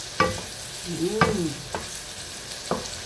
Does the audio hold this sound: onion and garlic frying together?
yes